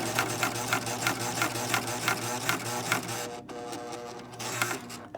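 A serger sewing machine stitching around a sharp fabric corner, running in a fast steady mechanical rattle with rhythmic clicks, close and continuous, briefly easing near the end.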